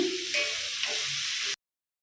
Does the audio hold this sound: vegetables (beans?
yes